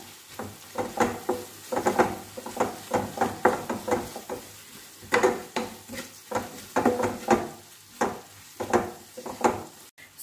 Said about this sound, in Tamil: இப்போ இதை நான் வந்து நல்லா மிக்ஸ் பண்ணிடுறேன்.